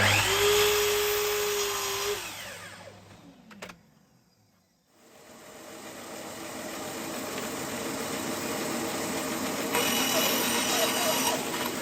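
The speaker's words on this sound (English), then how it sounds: "And then these can be drilled out." A drill press bores out knobs, giving a loud motor whine that winds down and stops, a short quiet spell, and then a steady grinding hum as it drills again, close and continuous.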